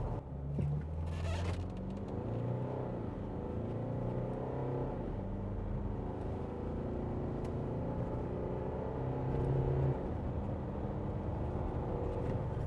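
A 2022 Nissan Navara Pro-4X Warrior accelerates from 0 to 100, a steady engine drone rising through gear changes, heard moderately from inside the vehicle with no talk.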